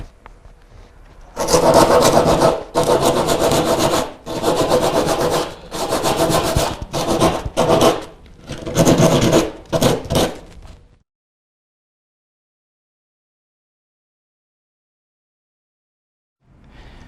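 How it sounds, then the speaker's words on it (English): A surfboard nose ding repair is sanded by hand, loud close rasping strokes in rhythmic bursts for about ten seconds, then near silence. "Now that our nose repair's all sanded and ready for filling"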